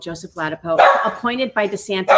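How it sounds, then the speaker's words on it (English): A dog barks repeatedly in the background, a quick run of sharp yips and woofs that keep breaking into and overlapping with a person talking nearby. "Excuse the dog in the background."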